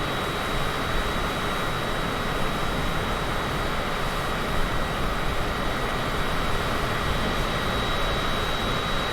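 An airliner's jet engines in Microsoft Flight Simulator 2020, on a flight from Dallas Love Field to Houston Hobby, produce a steady, even roar like broadband noise with a faint high whine on top.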